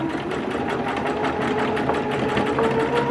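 Sewing machine stitching a trench coat sleeve near a leather piece, a close, steady rapid mechanical whirr and clatter running continuously and fairly loud, with no talking.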